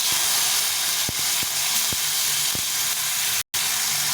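Chopped tomato dropped into hot oil with fried chilli, cumin and bay leaf: a steady loud hissing sizzle with a few utensil knocks and a brief cut near the end.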